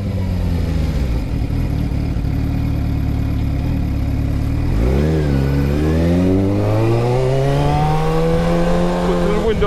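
A car pulls away and accelerates, its engine note climbing steadily through rising revs. The engine is loud and close, and a voice talks briefly over it.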